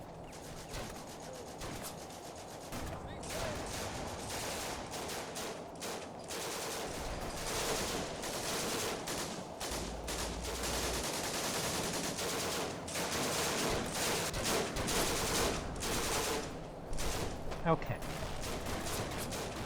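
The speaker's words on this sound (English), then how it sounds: "Mortar shooting at us from somewhere." Battle in the Combat Mission: Afrika Korps video game, with scattered rifle and machine-gun bursts and occasional mortar thumps, distant and fairly quiet, plus a man's brief word over the fighting.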